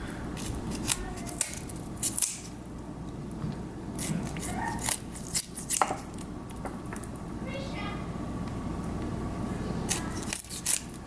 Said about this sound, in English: Get you some nice sharp shears. It'll work nice and good and perfect just cutting them off.